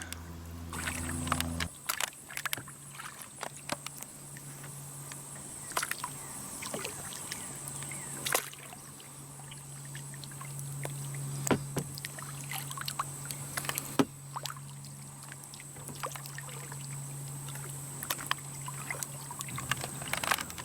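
A kayak glides along a river on an overnight expedition, with soft paddle dips, gentle water trickles and small knocks against the hull, all faint and close with no talking.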